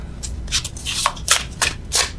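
Tarot cards being shuffled by hand, not riffled: a series of soft, papery swishes and slides in uneven bursts, close by.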